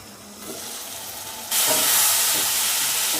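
Onions, curry leaves and coriander sauté in a hot pan for chilli chicken, giving a steady steamy hiss and sizzle that suddenly swells louder halfway through, with no talking.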